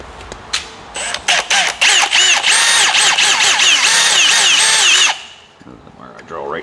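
A power drill whirs in several short bursts while working on a snowmobile, then runs steadily for about three seconds before stopping; a voice speaks briefly near the end.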